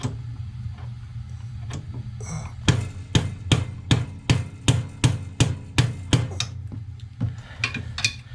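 Hammer strikes during a Kenmore Elite washing machine repair, about a dozen sharp, evenly spaced blows in a steady rhythm, close and fairly loud over a low background hum, after a few scattered taps.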